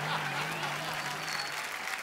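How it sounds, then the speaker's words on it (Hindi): Audience at a comedy show applauding loudly for a birthday guest, dense sustained clapping from a crowd with faint voices underneath, steady and close. "तो आप सबकी जोरदार तालियों के बीच ये जो आदमी बैठे हुए हैं, चिरकुट भाई"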